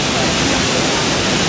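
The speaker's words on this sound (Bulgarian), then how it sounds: "В момента сме при най-високите водопади в Германия." Triberg Waterfalls in Germany, the country's highest falls, send out a loud, steady, unbroken rush of water close by.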